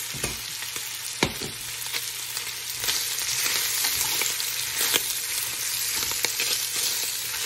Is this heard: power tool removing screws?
no